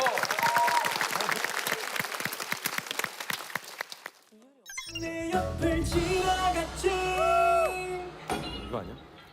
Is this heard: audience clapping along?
yes